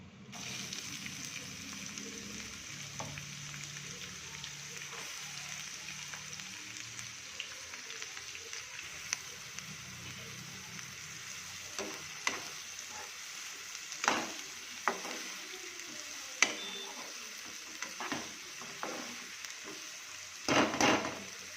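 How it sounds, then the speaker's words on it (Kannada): Onions and cumin fry in hot oil in a home kitchen, a faint steady sizzle with scattered soft pops and crackles, getting a little louder near the end. "ಅದಕ್ಕೆ ಎಣ್ಣೆ ಹಾಕ್ಕೊಂಡು ಜೀರಿಗೆ ಹಾಕ್ಕೊಂಡೀನಿ ಈಗ ನೆಕ್ಸ್ಟ್ ಈರುಳ್ಳಿ ಹಾಕ್ಕೊತೀನಿ"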